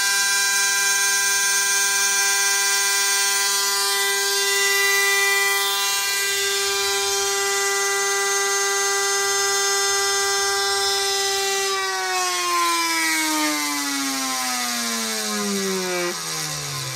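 A belt sander spindle motor spins at 24,000 RPM on a bench test, giving a steady whining hum with sharp tonal overtones that holds for about twelve seconds, then winds down, the pitch falling as it slows.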